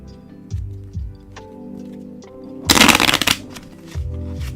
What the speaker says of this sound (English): think I shuffled something in there I didn't want to.